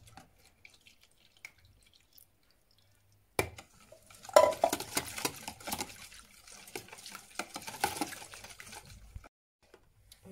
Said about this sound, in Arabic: نزيدو الحليب